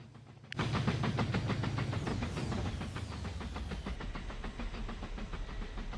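A Santa Fe steam locomotive in Mashinky runs at speed, giving a loud, steady chuffing beat with hiss and rolling rail noise that starts abruptly and continues throughout.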